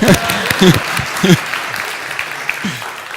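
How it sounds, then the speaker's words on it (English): A church crowd of about 200 claps in a broad, steady wash of applause, with bursts of voices rising over it throughout. "let's all clap here"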